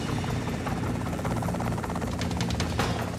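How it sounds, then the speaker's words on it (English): Helicopter flying low while mustering feral bulls in the outback, a loud, steady rotor thrum with buzzing overtones that holds throughout, close and without talk. "One of the choppers is pushing the feral bulls into Clancy and me."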